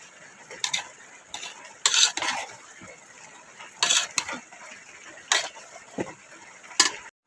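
Metal spoon scraping and clinking against a cooking pot while mixing khichuri made with local rice, milk and colouring, in intermittent bursts of stirring with quiet pauses between.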